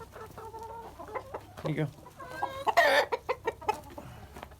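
Chickens cluck close by in a series of short, rhythmic calls, rising to a louder burst, with a brief spoken remark mixed in.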